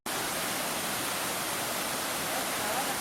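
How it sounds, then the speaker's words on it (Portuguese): River rapids below Cachoeira dos Pretos waterfall give a steady, even rush of churning water, broad and unbroken, heard at a moderate distance with no other clear sounds. "Corredeira do rio aí."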